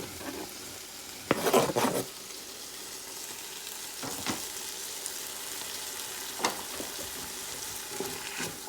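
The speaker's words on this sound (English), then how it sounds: "I'm gonna give it a stir" A pot of chicken fried rice with vegetables and green onions sizzles steadily while a utensil scrapes and stirs through it in a few separate strokes, the first the loudest and the rest softer.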